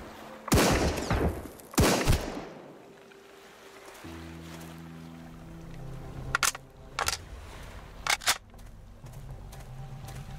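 Several sharp hunting rifle shots ring out in the game Sunkenland, two loud early blasts followed by a few quicker cracks, with a steady low engine hum underneath.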